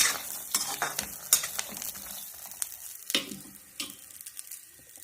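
Coconut chutney ingredients roasting in a pan crackle and sizzle up close, with frequent stirring scrapes and light utensil clinks against the pan.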